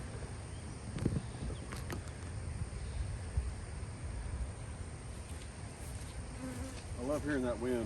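Honey bees buzz steadily around a hive at an apiary on a windy day, a dense close droning swarm with individual bees passing near, under wind noise and occasional handling sounds.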